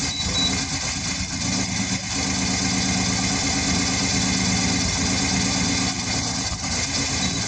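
A Yamaha Virago 250 motorcycle engine idles steadily with a continuous, close, even rumble and slight flutter, warming up with no talking.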